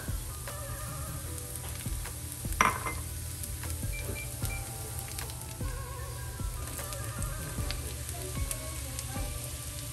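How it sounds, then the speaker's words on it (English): Garlic sizzling in avocado oil in a pan, a steady close frying hiss running throughout, with a brief clatter of a utensil against the pan partway through. "Listen to the sizzle."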